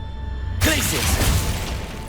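Freezing spell from the Hogwarts Legacy video game, a sudden crackling, shattering burst that cuts in after a brief quiet hum and lingers as an icy hiss, with a voice present.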